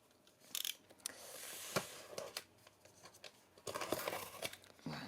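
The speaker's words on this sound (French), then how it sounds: "on va ouvrir le colis, donc pour cela nous allons prendre un cutter" A utility knife slices open a cardboard parcel in short scraping, tearing bursts with crinkling packaging, fairly close and quiet, no voices.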